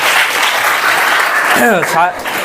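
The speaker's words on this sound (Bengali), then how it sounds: "তো সবাই একটু জোরদার তালি দাও স্যারের জন্য" Loud, close group applause from students for their teacher at a school meditation gathering, steady clapping that runs throughout while a voice speaks briefly over it near the end.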